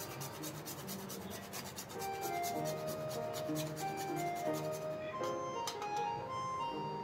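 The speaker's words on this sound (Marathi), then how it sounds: "पाव चमचा जायफळ किसून घालायचंय" Nutmeg is grated over a dish of traditional sweet coconut rice, giving rapid, soft, quiet scraping strokes. Faint sustained tones sit underneath.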